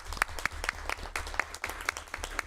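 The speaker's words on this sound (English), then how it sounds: "Now, we can certainly applaud." Sparse, fairly quiet clapping at a board meeting after an oath of allegiance to King Charles III, with separate claps landing in an uneven rhythm over a low background hum.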